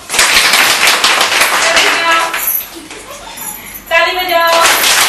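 Group of children clapping hands together during a game at an early-childhood training centre in Goregaon, with a burst of claps, a brief lull, then more clapping, loud and close under an adult's voice and chatter.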